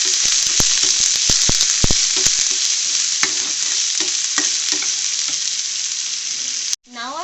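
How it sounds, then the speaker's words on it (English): Chopped onion sautés in hot oil with dry spices in a pan, giving a loud, continuous sizzle broken by scraping stir strokes, before the sound cuts out abruptly near the end. "Now to this we will be adding in the chopped onion."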